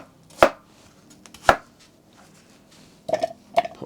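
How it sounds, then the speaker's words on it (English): A knife chops medium onions roughly on a board, four sharp, distinct chops spaced irregularly, two single strikes followed by a closer pair, with no talking. "And do the same with your 2 medium onions."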